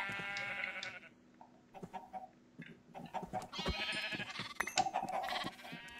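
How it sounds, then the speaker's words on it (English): Sheep in a video game bleat loudly and repeatedly. The cries are close and clear, in short uneven bursts with brief quiet gaps between them. "Alright, I'm gonna kill these two sheep here."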